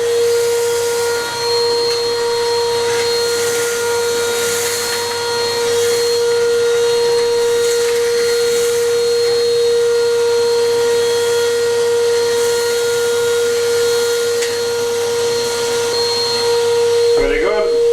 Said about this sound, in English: all that remains is to hoover out